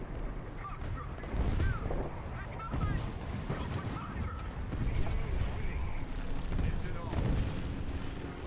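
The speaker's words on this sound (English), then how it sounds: "Artillery strike" Artillery strike explosions in War Thunder, a dense run of heavy booms and rumbling blasts that roll on continuously without a break, with fainter game sounds mixed underneath.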